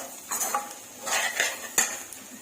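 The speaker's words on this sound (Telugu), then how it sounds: "ఇప్పుడు కొంచెం గరం మసాలా పొడి వేసుకోవాలి. ఇది కాసేపు ఇలా కలుపుకొని" A spoon scraping and clinking against a pan as mutton fry is stirred with garam masala powder, with several distinct metallic scrapes and knocks at close range over a faint sizzle, no talking.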